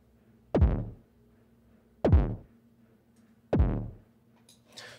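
Three deep, punchy synthesized thumps, a low-end layer for a sci-fi gun sound, spaced evenly about a second and a half apart, each with a quick downward-sweeping low-end decay, over a faint hum.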